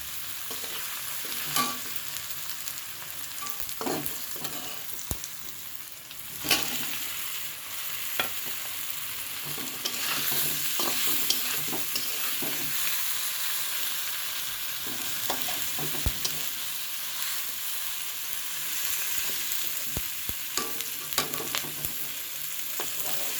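Onion, tomato and ground cumin and coriander being stir-fried in a pan, with a steady sizzle beneath frequent scraping strokes of a spatula, heard close throughout and without any voices.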